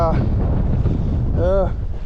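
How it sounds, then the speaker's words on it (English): Strong wind buffets the microphone beside the water in a heavy, steady low rumble, while brief voice sounds break through near the start and again past the middle. "it's windy as hell"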